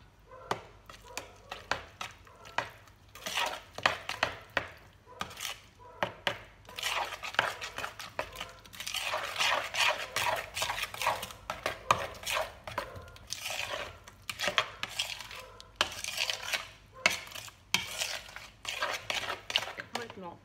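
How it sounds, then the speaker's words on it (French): Rice tart mixture being stirred in a bowl, a close run of irregular scraping, clinking and tapping strokes that continues throughout with brief pauses. "Voilà, je mélange."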